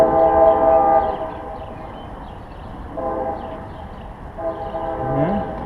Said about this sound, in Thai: เสียงรถไฟ